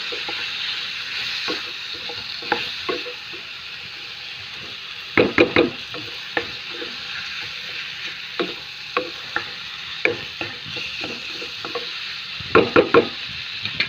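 Masala is stirred into chicken curry in a hot pan, a constant sizzle broken by irregular wooden knocks and scrapes of the spoon against the pan, sometimes in quick clusters of two or three.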